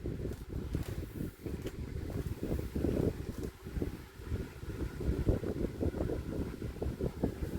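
A Lasko 12-inch desk fan, model 2000, running on high speed makes a steady, close, broadband whooshing roar with gusty fluctuations and no talk.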